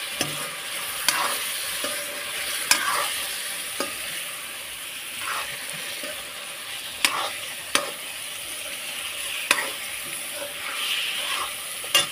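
Fish fries with small tomatoes in a pan for a Marathi-style fish curry, giving a steady, close sizzle and hiss broken by occasional clinks and scrapes of stirring.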